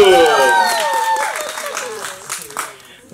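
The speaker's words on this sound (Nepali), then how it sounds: "जोरदार तालीका साथ स्वागत गर्न चाहन्छु" An audience claps and applauds to welcome a singer onto a stage, loud at first and fading, with a host speaking over it.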